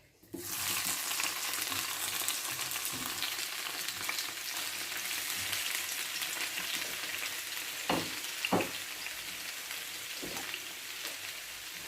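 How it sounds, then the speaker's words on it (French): Fish frying in hot olive oil gives a steady, dense sizzle that holds loud and unbroken for twelve seconds, with a few sharper crackles and pops near the end. "I'm gonna fry."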